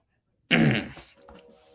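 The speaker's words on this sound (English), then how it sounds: "just got a little burp going on there" A single short burp erupts abruptly, loud and close, then trails off into a softer throaty tail lasting about a second.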